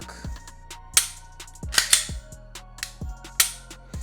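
Crisp, sharp clicks from a Glock pistol trigger being dry-fired, about eight of them at an uneven pace, loud and close with no talk.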